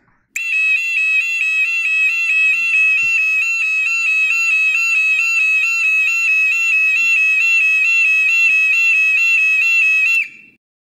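An electronic siren signal sounds as one loud, unbroken high-pitched tone that steps up and down in pitch for about ten seconds. It plays alone, with no voices.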